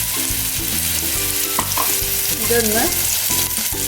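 Chillies sautéing in a hot pan for Kuzhi Mandhi, a steady loud sizzle with stirring scrapes throughout, with a brief spoken word over it.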